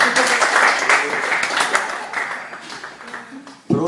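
An audience at a DJ academy graduation ceremony claps for a graduate, a dense burst of applause that slowly thins out, with voices mixed in.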